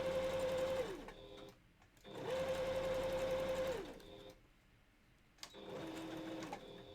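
A sewing machine stitches a balaclava in three separate runs, each a steady mechanical whir with a clear tone that dips as it slows. There are quiet pauses between runs and a soft click at the end.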